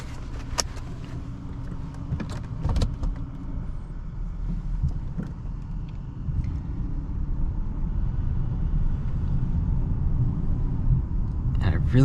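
Cabin noise from a smooth-riding car on the move, a low steady rumble of engine and tyres on the road that swells gradually, with a few faint knocks and someone talking at times over it.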